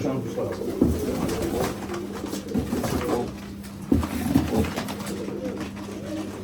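Pigeons cooing in a loft, repeated soft low coos close by, with someone talking over them and occasional knocks and clatter in the background.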